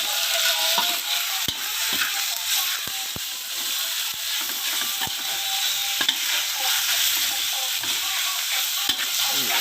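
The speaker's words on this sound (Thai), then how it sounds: "เราก็ใส่หมูลงไป แล้วก็คั่วหมูให้แห้งนะครับ" Pork is dry-fried with red curry paste in a pan, a bright sizzling hiss with regular sharp clacks and scrapes from a stirring utensil against the metal.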